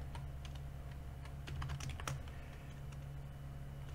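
Keys clatter on a computer keyboard while code is typed in Roblox Studio, a quick irregular run of soft clicks that bunches into a denser burst near the middle, close and steady over a low constant hum, with no voice.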